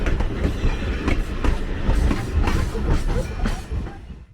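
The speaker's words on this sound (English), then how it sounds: "The train consisted of an Erie caboose and 2 coaches." A heritage train of an Erie caboose and two coaches rolls past on the Black River line, a steady loud rumble with rhythmic clickety-clack of wheels over rail joints, close by, fading slightly at the end.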